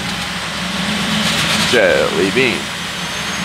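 A Bandit 4680 wood chipper runs at idle with no wood in it, a steady low engine hum that holds throughout while a person speaks briefly over it.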